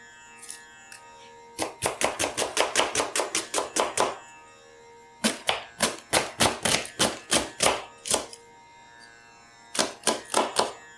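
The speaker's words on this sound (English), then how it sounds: "And you can see how I cut the onion." An onion being sliced with a knife on a cutting board for chicken curry, sounding as rapid bursts of crisp, evenly spaced chopping taps in three runs separated by short pauses, close and loud.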